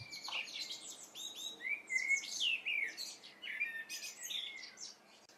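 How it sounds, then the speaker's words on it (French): A European robin sings alone in a winter garden, a run of high, thin warbling phrases and trills with short pauses between them, clear and fairly close against a quiet background. "Naturellement, c'est le rouge-gorge familier."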